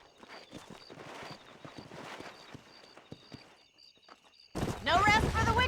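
Horses' hooves clip-clop in a Red Dead Redemption western game, a rapid uneven patter of several hooves, then a loud voice or whinny bursts in near the end.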